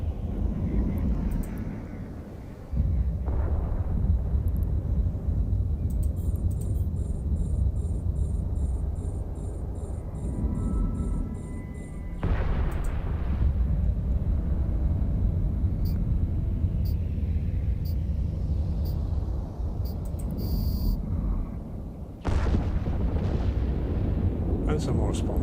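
Ship weapons fire in the space game EVE Online amid a heavy, continuous low rumble with sharp bursts and shifts in intensity, loud and sustained throughout, with faint electronic tones above.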